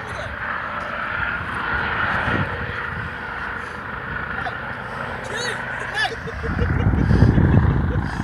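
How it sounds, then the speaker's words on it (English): A nitro-powered model airplane engine drones steadily as the plane comes in to land, a continuous buzzing whine at moderate distance that swells louder near the end, with people talking nearby. "He's going to land his plane."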